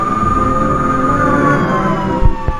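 Video game police car sirens wail in a steady, sustained tone at fairly close range, with a couple of brief thumps near the end.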